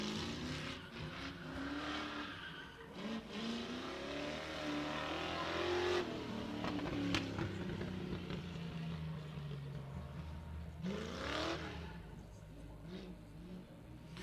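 A Ford Fox body with a 302 V8 revs repeatedly at a drift pit, the engine note climbing and dropping through several pulls and holding a steady drone between bursts, with faint background noise.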